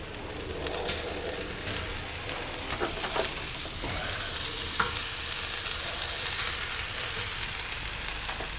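Mangalitsa pork sage sliders sizzle on a Blackstone griddle set to medium, a dense, steady crackle and spit that holds at an even loudness throughout.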